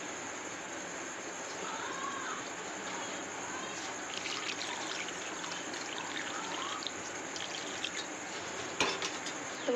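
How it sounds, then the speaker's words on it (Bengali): Water poured a little at a time into chicken curry cooking in a pan, a continuous soft trickle and splash with faint spoon scrapes, fairly quiet throughout. "তো এখন আমি জল দিয়ে দেবো বেশি জল দেব না অল্পই দেবো"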